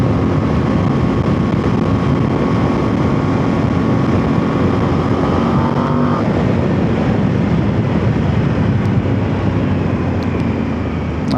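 A Voge DS800X Rally motorcycle engine drones steadily while riding winding mountain roads, a loud continuous hum with wind rush that changes tone partway through as the rider shifts gears.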